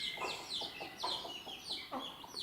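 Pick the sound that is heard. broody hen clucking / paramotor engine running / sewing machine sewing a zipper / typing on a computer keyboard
broody hen clucking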